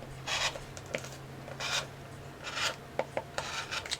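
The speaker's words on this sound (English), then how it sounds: "So I'm going to go ahead and trim them" Quilt blocks of fabric are trimmed with a cutter on a mat, giving soft, close rasping strokes in short bursts followed by a few light taps, with no talking.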